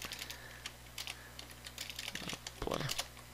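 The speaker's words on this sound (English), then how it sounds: "My typing's not good today." Scattered keystrokes on a computer keyboard tap out in quiet irregular bursts, with a brief denser flurry near the end over faint background hum.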